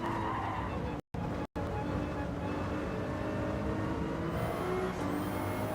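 Race car tyres skid as the car snaps into oversteer in Gran Turismo 7 online lobby racing, a continuous loud engine and tyre roar with a rising squeal near the end.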